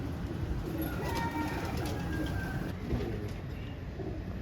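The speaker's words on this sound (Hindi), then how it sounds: "ये है वो कबूतर जिसकी हम बात कर रहे थे" Cooing of a golden pigeon, soft repeated calls heard faintly amid steady background noise with no talking.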